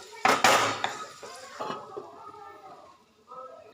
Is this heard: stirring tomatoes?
yes